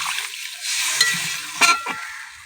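A spoon stirring cauliflower and potato curry in a pan, a couple of soft scrapes and a light clink over a faint sizzle, close and brief.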